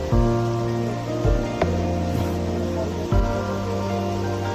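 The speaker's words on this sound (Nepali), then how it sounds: "यस्तो छ माथिबाट पानी खसिरहेछ" Meltwater spills from beneath the snow near Annapurna Base Camp, a steady close splashing rush of falling water with faint tonal undertones, carrying on without a break.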